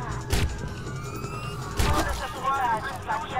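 Police car sirens wail in the Watch Dogs video game, their rising and falling tones sweeping under a busy mix of game sounds, with someone talking over them.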